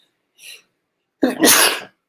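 A single person sneezes once, loud and close, with a brief soft intake of breath just before the sharp burst, otherwise silent.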